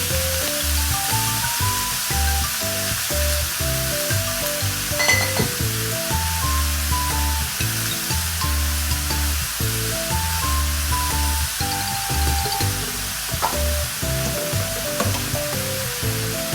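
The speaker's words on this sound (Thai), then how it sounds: "ผัดทุกอย่างให้เข้ากันอีกครั้ง" Bean sprouts stir-fried in a pan with soy sauce, oyster sauce and a little sugar, alongside pork blood, tofu and minced pork, give a steady, continuous sizzle that runs beneath tonal background music throughout.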